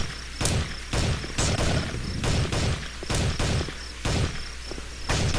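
Video game gunfire rings out in short, evenly spaced bursts of sharp cracks, about ten shots over a few seconds, moderately loud with a steady ambient hum between them.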